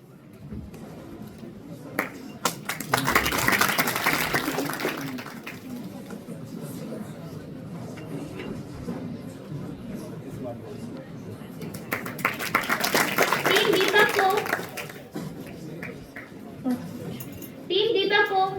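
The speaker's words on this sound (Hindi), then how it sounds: "तो एक बार जोर तालियां हो जाए टीम दीपक के लिए फिर से।" A crowd at a science exhibition prize distribution applauds for the winning team in two separate bursts of dense clapping, with talk over an announcement system between them and a few clinks.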